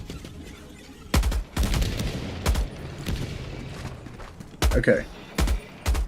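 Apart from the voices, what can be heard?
Wasp weapon firing in a video game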